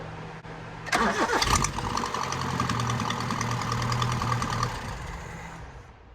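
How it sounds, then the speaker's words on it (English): A Honda Civic engine with a swapped-in Weber carburetor cranks with a rapid rhythmic churning, then catches and settles into a steady idle that slowly fades; it has a big exhaust leak at the EGR. "we're gonna crank this thing and get some fuel into it and see what happens"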